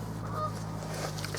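A Canada goose honks at dusk beside a bream-fishing spot, a fairly faint, steady call set against a low, constant background hum.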